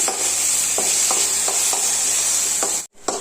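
Tomato and onions sauté in a pan for chappathi curry, a steady sizzle running throughout with several short scraping stirs of a spoon, close and fairly loud, with a brief cut near the end.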